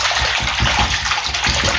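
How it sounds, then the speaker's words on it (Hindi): Hot ghee is worked by hand into water for samosa dough, making close, continuous wet sloshing and churning with soft rhythmic splashes and no voices. "अब हमने इसको थोड़ा थोड़ा करके पानी के अंदर ऐड करते रहना है और हाथ की मदद से इसको फेंटते रहना है।"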